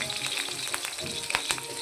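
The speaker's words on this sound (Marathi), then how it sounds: "त्यावर हिरवी मिरची टाकून घ्यायची. हिरवी मिरची चांगली तडतडली" Green chillies crackle and sizzle in hot oil, a steady frying hiss with sharp pops scattered throughout, close and fairly loud.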